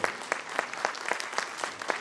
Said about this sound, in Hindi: तो स्वामी जी के लिए ताली बजाओगे कि नहीं बजाओगे?